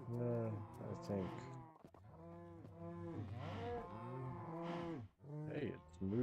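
Cows in the video game Minecraft moo repeatedly, with several long, drawn-out, overlapping calls that come close and loud one after another, with a brief pause in the middle.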